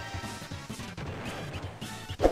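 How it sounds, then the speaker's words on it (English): A cart being destroyed in the Roblox video game, a brief smashing crash near the end of a busy stretch of game sound. "His cart just got destroyed."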